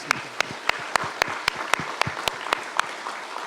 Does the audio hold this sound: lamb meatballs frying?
no